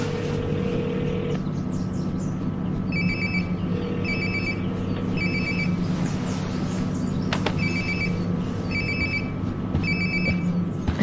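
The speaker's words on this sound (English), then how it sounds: "Sounds like my phone is definitely nearby." A cell phone rings in Life is Strange: Before the Storm, a regularly repeating pattern of electronic trills sounding close and clear over a constant low ambient hum.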